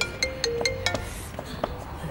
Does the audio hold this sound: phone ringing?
yes